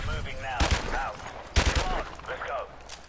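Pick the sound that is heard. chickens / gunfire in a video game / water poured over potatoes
gunfire in a video game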